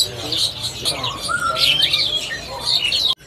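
Bright, chattering calls of a jalak kebo (buffalo starling) repeat rapidly and fairly close, with a few softer whistles, ending in an abrupt cutoff.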